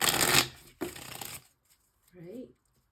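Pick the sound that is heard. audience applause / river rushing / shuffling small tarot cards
shuffling small tarot cards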